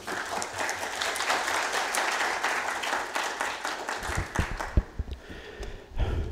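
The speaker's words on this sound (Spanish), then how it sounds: "Los recibimos con un fuerte aplauso." Loud sustained applause from a seminar audience welcoming an engineer to the stage, dense clapping filling the room before thinning into scattered claps near the end.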